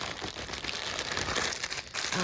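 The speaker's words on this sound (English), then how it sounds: "and then you always get this nice plastic bag." A plastic bag from a sewing kit crinkles and rustles steadily up close, a dense crackling sound that runs through the whole stretch with no talk over it.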